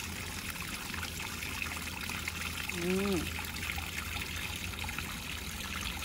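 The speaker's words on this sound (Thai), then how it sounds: "มีน้ำแม่น้ำเล็กๆไหลมาแล้วเห็นไหมน้ำใสๆน้ำใสมากน้ำไหลมาตรงเนี้ย" A small, clear stream flows steadily at a historic forest park in Japan, a continuous rushing trickle close by, while a voice briefly speaks over it.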